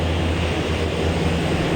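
Propeller engines of a DeHavilland Dash 7 running in reverse thrust in Microsoft Flight Simulator, a steady, loud droning roar with a low rumbling hum and no break, heard alone without talk.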